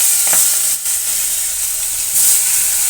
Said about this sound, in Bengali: কেটে রাখা ধুয়ে রাখা টমেটো দিয়ে দিলাম।